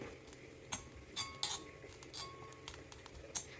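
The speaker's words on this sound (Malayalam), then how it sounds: "ഇളക്കിക്കൊണ്ട് തന്നെ വറുത്തെടുക്കണം" A utensil scrapes and clinks against a pan in short irregular strokes while roasting grated coconut, a quiet stirring sound with no voices.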